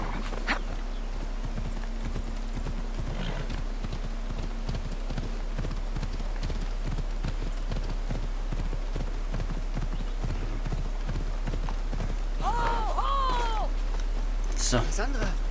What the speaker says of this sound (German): dann können wir das Pferd nehmen